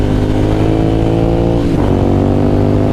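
A 2009 Ducati Monster 1100 motorcycle engine revs up close and loud, a steady throaty idle that rises briefly in pitch and then settles back down, with no voices.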